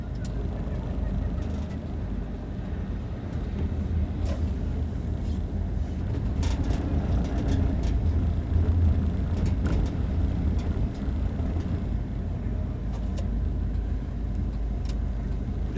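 Car driving around a town in Blackpool, a steady low engine and road rumble continuing throughout at constant level, heard from inside the vehicle with no clear speech.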